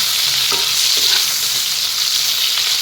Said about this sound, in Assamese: বেঙেনাখিনিও প্ৰথমতে অলপ ফ্ৰাই কৰি ল'ব।